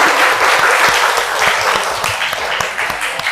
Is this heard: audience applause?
yes